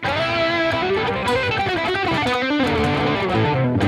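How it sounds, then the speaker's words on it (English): A distorted electric guitar rips through a fast solo, notes smeared together with scratchy, noisy string buzz between them. "this level of unwanted string noise is what most guitar players hear"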